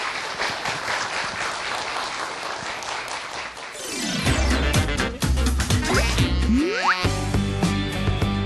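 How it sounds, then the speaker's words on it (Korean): A lecture audience in Gwangju claps to welcome a mathematics education professor, steady dense clapping for several seconds, then giving way to louder tonal sounds and music-like swoops. "박수 주세요."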